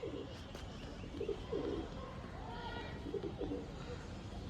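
A large, old-generation male pigeon coos in soft, repeated low phrases against a steady background of distant bird chirps and ambient noise.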